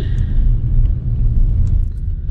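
A car pulls away toward the highway after a long traffic jam in Raiganj, North Bengal, heard from inside the cabin as a loud, steady low road rumble with no talking.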